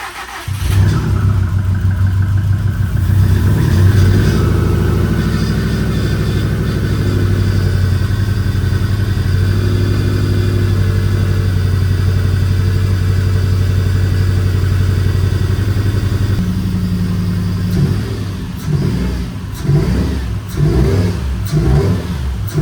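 A Subaru STI with a freshly built engine starts and idles with a loud, steady low rumble, then revs and settles unevenly toward the end while running with a slight misfire on cylinder 3.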